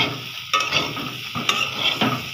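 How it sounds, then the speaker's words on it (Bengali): Potatoes sizzle steadily in hot oil, with a few sharp scraping stirs at intervals; no talking. "আলুটা একটু ভেজে নিচ্ছি"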